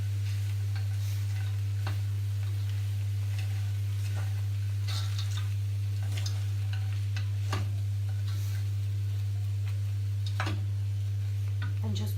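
Mixed peppers frying in a pan at home, a soft, steady sizzle under a loud constant low hum, broken by irregular clicks and scrapes from stirring.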